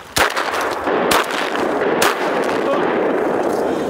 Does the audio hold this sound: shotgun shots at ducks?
yes